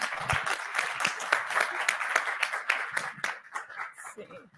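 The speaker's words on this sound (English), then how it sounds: "Round of applause, Professor Wilson." An audience at an academic symposium on race, gender and ethnicity claps for Professor Wilson, with sharp individual hand claps crackling through a steady wash of applause that fades toward the end, a voice speaking faintly underneath.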